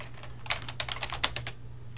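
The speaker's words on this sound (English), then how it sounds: "so we can use our keyboard" Rapid clicking of computer keys as someone types to navigate menus in Ubuntu, a dozen or so uneven taps with a few sharper strokes, close and fairly quiet over a low steady hum.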